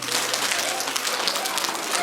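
Children at a school assembly applaud their classmate artists with a dense patter of many small hands clapping, steady and close, with faint murmurs beneath.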